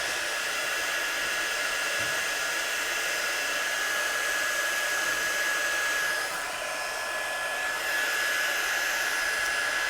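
A heat gun blows steadily for the whole stretch, drying watercolour paint on stamped paper with a continuous, even whoosh of air and a faint high whine, close and loud with no talking.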